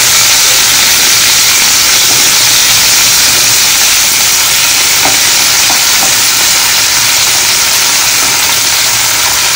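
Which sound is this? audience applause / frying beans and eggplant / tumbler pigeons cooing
frying beans and eggplant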